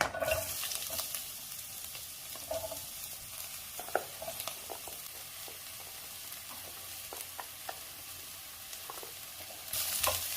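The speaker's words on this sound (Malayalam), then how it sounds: "ഇതിൽ കുറച്ച് എണ്ണ ബാക്കിയുണ്ട്. അതിലേക്ക് പാവയ്ക്ക ഇടാം." Bitter gourd and carrot sizzle softly in a little leftover oil in a pan for a Kerala-style mixed theeyal, with scattered spatula scrapes and stirring clicks over the quiet, continuous frying.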